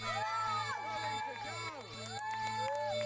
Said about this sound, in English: this place is very much up on its feet, cheering on each and every one of the runners